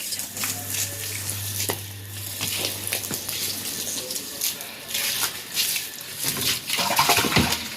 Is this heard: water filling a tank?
yes